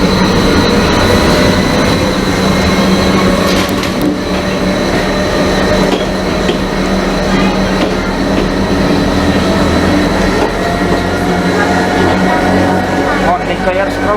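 Steady loud rumble and rattling clatter of a Stadler rack railway train climbing a steep track up to the Christ the Redeemer statue, heard from inside the carriage with continuous mechanical whine and people talking underneath.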